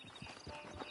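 Horse hooves clip-clop at a steady walking rhythm in Red Dead Redemption 2, roughly four moderate, close thuds in one second with no talk over them.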